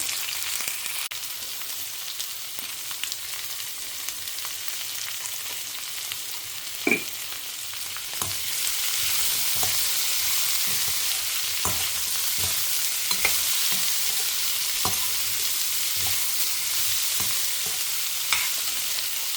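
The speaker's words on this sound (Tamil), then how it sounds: "உப்பு போட்டு கலக்கி விட்டுட்டேன்" Thinly sliced ivy gourd frying in a pan with salt, a steady close sizzle that grows louder partway through, dotted with regular clicks and scrapes of stirring.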